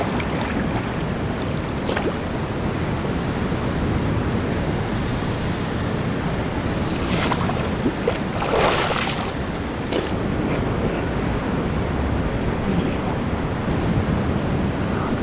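Ocean waves wash onto a hotel beach in a steady, broadband rush, with a few louder surges near the middle and wind buffeting the microphone throughout.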